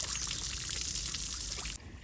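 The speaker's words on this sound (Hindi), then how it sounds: "अब मिट्टी को जनाब पानी पिला रहे हैं" A steady stream of water pours from a pipe onto soil outdoors, a loud, continuous hissing gush that cuts off abruptly near the end.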